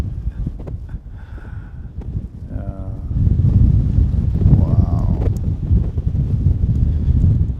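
Strong gusty wind of about 25 to 30 knots buffets the microphone on a hilltop mound, a loud continuous roar that swells partway through, with a person briefly exclaiming.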